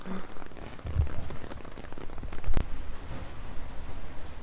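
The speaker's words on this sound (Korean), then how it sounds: "비가 엄청 많이 오는데?" Heavy rain falls steadily outdoors, a dense broadband patter that continues throughout with a couple of louder nearby knocks.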